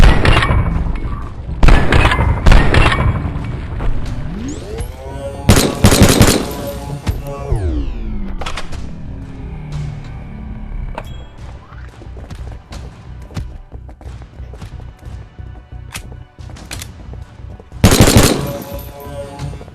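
Pistol gunfire in a VR shooting game, with rapid loud shots in clusters at the start and end and scattered single cracks and impacts between them amid ringing game effects.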